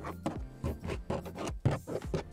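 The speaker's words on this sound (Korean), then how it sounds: "소리 들리시죠? 다 전부 그냥 플라스틱으로 마감이 되어 있어요." Knuckles tap the hard plastic rear door trim inside a Chevrolet Trax crossover, giving about six hollow, dull knocks in an uneven rhythm. They are close and fairly quiet, with no speech.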